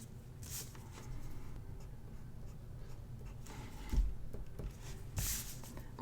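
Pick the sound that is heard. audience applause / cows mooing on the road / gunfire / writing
writing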